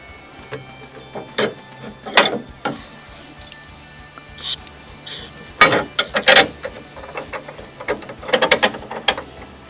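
Painted tow hook mounted onto an existing tow hook with a bolt and nut, scattered close metallic clinks, ratcheting and handling noises in irregular bursts over a quiet background.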